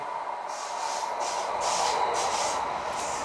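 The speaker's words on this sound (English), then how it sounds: "hello Mr. Train" A train passing by outdoors, a steady rumbling hiss with rhythmic pulses of clattering wheels, moderately distant and fairly even in loudness.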